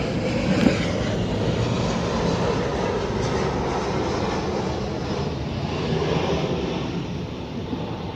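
Airplane passing overhead near an airport, a steady broad roar that holds at a fairly even level for several seconds, with no voices.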